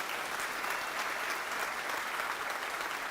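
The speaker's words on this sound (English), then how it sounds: "I want to give a huge round of applause to the hardest working conference organizers I know" Steady applause from a conference audience at Config Management Camp in Ghent for the event organizers, a dense, even wash of many hands clapping, moderately distant and unbroken throughout.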